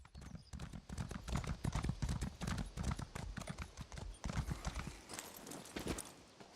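Horse hooves clip-clop in a quick, steady rhythm in the video game ESO, a close and fairly quiet trot that continues throughout.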